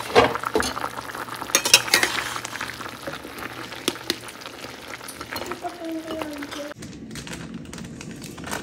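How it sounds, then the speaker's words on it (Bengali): Vegetables cook in a pot on the stove with drumstick pods being added, heard as bubbling and sizzling under clinks and scrapes of a metal utensil, a sharp clatter early on and a low hum in places. "এখানে সবজি ফুটছে"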